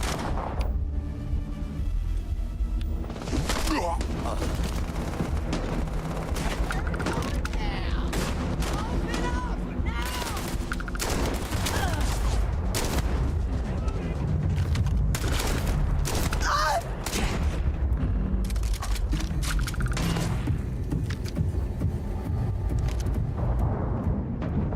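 Gunfire from a favorite weapon in the sci-fi game Starfield: dense, loud, continuous shots and booming impacts layered with heavy combat noise throughout, with no pause.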